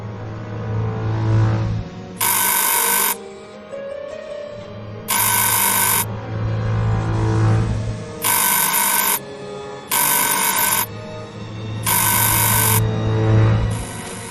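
Electric bell ringing aboard the train in the Agatha Christie Murder on the Orient Express video game, five loud insistent bursts of about a second each at a steady pace over a low rumbling train hum.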